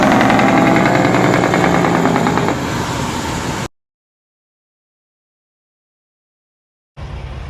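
A Freightliner Cascadia truck's Detroit DD15 diesel engine runs loud and close with a steady rumble, cuts out for a few seconds of silence, then resumes.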